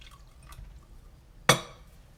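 Water splashes briefly into a glass holding sugar and baker's yeast for batbout bread dough: one short, close, fairly loud pour at the middle that fades within half a second, with quiet room tone around it.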